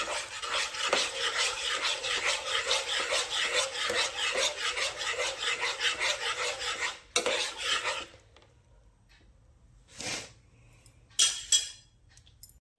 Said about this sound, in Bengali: এক চামচ গুঁড়ো দুধ দিয়ে দিলাম দুধটা দিয়ে এভাবে নাড়াচাড়া করে